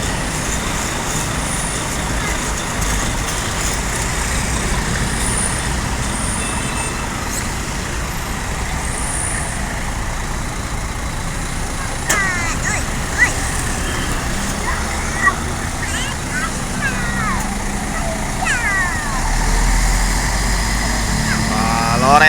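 A Lorena double-decker bus pulls away from a stop in Palembang, its engine a steady low rumble amid continuous roadway traffic noise, with faint voices nearby.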